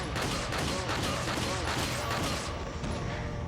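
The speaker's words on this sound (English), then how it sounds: "Just keep firing." Gunfire from the video game Resident Evil 4 comes as a dense, continuous volley of loud shots and impacts, with no voices.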